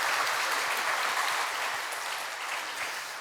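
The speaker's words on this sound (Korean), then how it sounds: "박수로 축복해 주시길 바랍니다" A church congregation at a Sunday service claps in a steady, moderately loud round that fades gently toward the end, with no talking over it.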